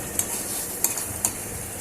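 Homemade ghee simmers in a pan with a steady, close sizzle. Three quick clinks of a utensil against the pan stand out above the frying hiss.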